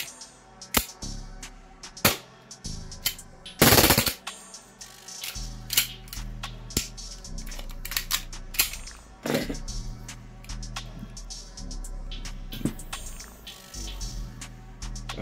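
An Elite Force Glock 18C airsoft pistol with an extended magazine fires semi-auto indoors. Sharp, loud single snaps come at irregular intervals over a low room hum.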